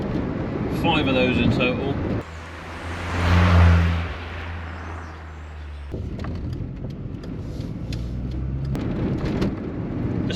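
Engine of a Rover 100 Metro car driving, revving up and dropping as it shifts into top gear, with a steady cabin drone and someone talking over parts of it.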